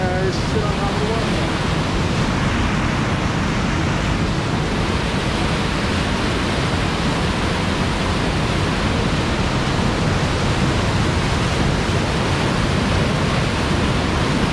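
Cooley Falls waterfall near a Havasupai campsite, a loud, constant roar of falling water close by, unbroken throughout with a faint voice buried beneath.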